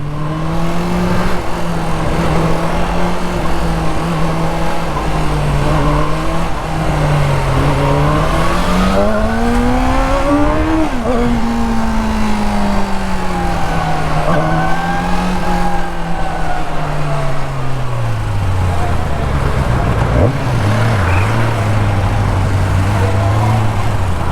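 A Bristol Kove 450R motorcycle engine roars steadily while riding, its pitch climbing and dropping through downshifts, loud and close throughout with no talking.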